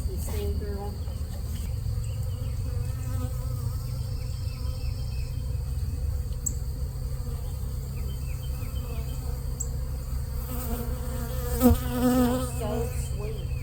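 A dense, continuous buzz of a honeybee swarm hums steadily throughout, close and loud, with faint voices murmuring underneath.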